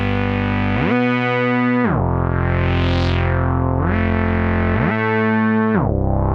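Moog Sub 37 or Matriarch synthesizer plays a bright, buzzy tone. Notes slide smoothly up and down in long, even glides between held pitches, loud and continuous with no gaps.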